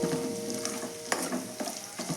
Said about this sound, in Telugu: నూనె అవన్నీ కొంచెం బాగా మగ్గితే నూనెలో ఆనియన్స్ మిగతా ఇంగ్రీడియంట్స్ వేసేసుకుందామండి ఇప్పుడు మనము